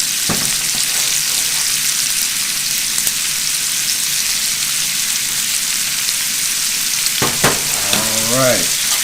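Frozen vegetables frying in a hot pan with salt and pepper, a loud, dense, steady sizzle heard up close, a few clinks and a brief scrape near the end.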